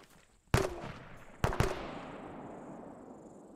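Two sharp gunshot bursts crack out in the Arma 3 military shooter, the first at about half a second and the second roughly a second later, each trailing into a long fading echo across open ground.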